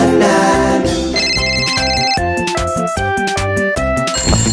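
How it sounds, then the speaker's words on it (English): A novelty ringtone for the iPhone plays a loud, bright synthesized melody with bell-like tones and a steady beat, running without pause. "The telephone is ringing."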